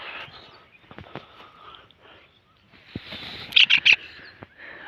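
A trapped kingfisher gives a quick run of sharp, shrill calls near the end, loud and close, after a stretch of faint rustling and background noise.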